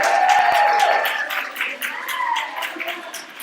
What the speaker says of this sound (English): Let's give a round of applause for Jasmine.